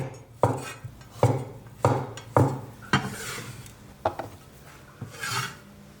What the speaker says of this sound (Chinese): 火腿肠切2根，小朋友喜欢。 哎呀，滚刀就是滚着切。